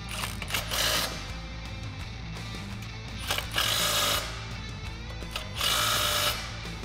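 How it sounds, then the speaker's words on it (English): Impact wrench tightening 14 mm nuts on a Smittybilt adjustable tow bar for a Jeep Wrangler: three loud bursts of rapid hammering, each about half a second, over a steady motor hum. "we're gonna take a 14 millimeter on my impact"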